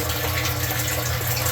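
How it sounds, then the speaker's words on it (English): Water pours steadily by gravity down a 1.5-inch drain line reducing to 1 inch into an aquaponics sump tank, a constant close rushing gush with no pauses and no voices. "So just the gravity from the earth is pulling that water down, and it wants to equalize inside the sump tank."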